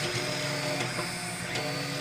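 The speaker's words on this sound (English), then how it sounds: "That's the 3D printer working now." A 3D printer printing parts for a Skyhunter 1800 FPV plane build whirs steadily with a dense mechanical hum and stepper whine, occasional faint ticks marking moves, continuous and unbroken with no talking.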